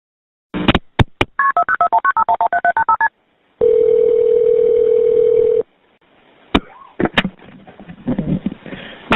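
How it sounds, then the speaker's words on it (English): A phone keypad dials 911 as a quick run of short, evenly spaced touch-tone beeps, followed by a steady dial-style tone lasting about two seconds, then a few sharp clicks and rustling handling noise. "and then she dialed 911"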